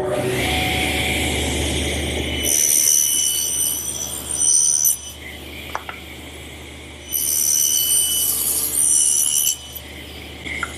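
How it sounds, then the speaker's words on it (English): Table saw cutting a tongue on each end of a solid wood center stile for a blanket chest: two loud sustained cuts, each lasting a couple of seconds with sharp high blade whine over the motor hum, with quieter gaps between. "I have to put a tongue in each end so that it'll fit in this groove that we've made for the panels. And I'll do that over here on the table saw."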